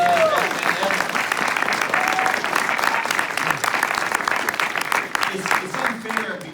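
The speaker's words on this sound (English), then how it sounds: "So let's give Kevin a round of applause for being the best Batman" Audience applause at an LA Comic Con convention panel, a dense sustained clapping from a large crowd that fills the room evenly throughout, with scattered voices mixed in.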